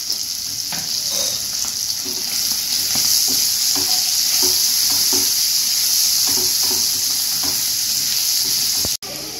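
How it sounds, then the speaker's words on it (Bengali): Potatoes coated with turmeric and salt fry in a pan, a loud, steady sizzling hiss with faint rhythmic stirring scrapes running underneath, cut briefly near the end. "আলুটা ভাজা হয়ে গেছে এবার নামিয়ে নেব"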